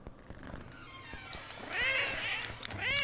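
Cartoon cats in the game CatNab meow and caterwaul in rising and falling wails, growing louder toward the end over a faint background. The cries are close and clear, with no talk.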